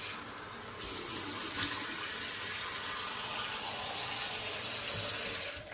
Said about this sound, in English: I want to kind of run water over my face and feel residual slickness.